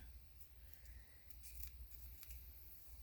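Scissors snipping through ribbon for a handmade Christmas card, a few quiet, close, crisp cuts in short bursts over soft background noise.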